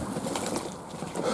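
Fantail doves coo softly in a quiet enclosure, low murmuring calls with faint rustling, heard close but at low volume and alone.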